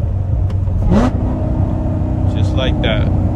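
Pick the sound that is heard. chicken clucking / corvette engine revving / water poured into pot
corvette engine revving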